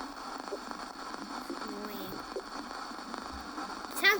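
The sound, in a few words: space sound recording of Jupiter's moon Europa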